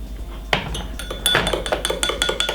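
A whisk stirring cinnamon tea in a glass, giving a quick series of close, bright clinks and taps against the glass that quicken toward the end, with no voices.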